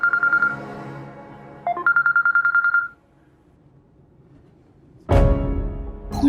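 A phone rings out unanswered, repeated electronic ring bursts that stop abruptly and leave a pause before a sudden loud noise takes over.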